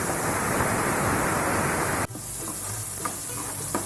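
Fresh mint leaves fry in hot oil with curry leaves and almonds, making a dense, even sizzle that suddenly drops to a softer crackle with scraping stirs. No one speaks.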